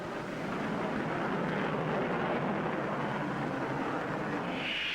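An Avro Vulcan jet bomber at very high altitude gives a steady, broad roar that swells slightly and holds, continuous and fairly distant, with no voices present.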